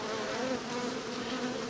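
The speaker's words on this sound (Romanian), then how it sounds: "Ia uitați cum pe cuțit albina e agitată" An agitated honey bee buzzes on a knife during hive work, a close, continuous, high-pitched drone with a steady hum and no voices.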